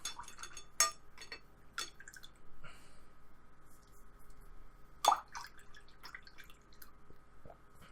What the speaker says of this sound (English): just wash my brush, get a little bit of this blue on it, and then wash it again